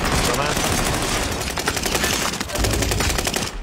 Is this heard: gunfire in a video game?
yes